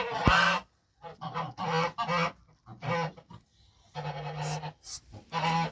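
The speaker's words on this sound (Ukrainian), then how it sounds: "Ось мої качки, рижухи" Red ducks give repeated loud nasal honks and quacks in bursts close by, with brief pauses between calls.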